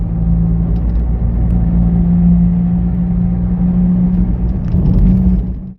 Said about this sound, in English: That's the bus that goes to Bull Bay.